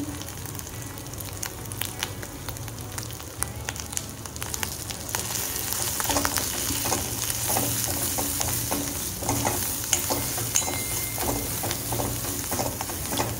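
Masala paste with red chili powder and homemade spice mix roasting in a pan for prawn curry, a steady close sizzle with repeated scraping stir strokes throughout, no talking.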